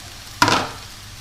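Rice tipped into a hot pan catches a sudden sizzling burst that swells quickly, then fades to a softer crackle over about a second.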